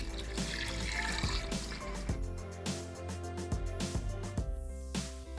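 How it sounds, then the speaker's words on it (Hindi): Water, about a liter, pours steadily into a cooking pot for camel pulao, a continuous splashing trickle with a metallic ring, close and fairly loud throughout. "एक लीटर पानी डाल दूंगी।"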